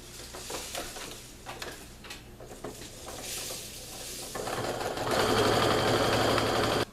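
A sewing machine stitches down the bottom seam of a pillowcase, its motor humming steadily and rising to a louder, faster run toward the end, with no voices.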